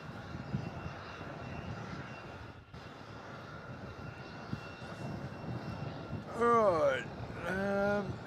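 A Velocity airliner at Melbourne Airport gives off a steady distant engine roar with a whine, while a voice talks throughout and bursts of radio chatter come in near the end.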